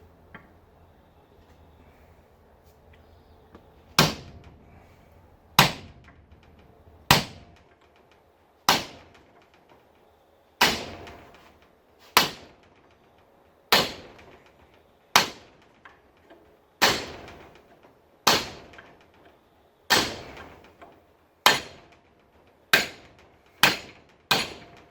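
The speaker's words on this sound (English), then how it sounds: "So I just get a chisel and smack across the seam." A hammer drives a chisel across the seam of a microwave's metal casing during scrap stripping, about fifteen sharp, ringing metallic strikes spaced a second or two apart, each loud and close with a brief decaying ring.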